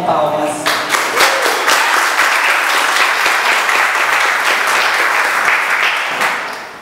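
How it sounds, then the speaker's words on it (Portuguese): An audience at the opening of Black Consciousness Day celebrations in Cabo Frio breaks into applause after an introduction, dense clapping that rises quickly, holds steady for several seconds and then tapers slightly. "com palmas."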